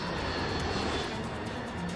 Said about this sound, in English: And the plane is heading straight for it.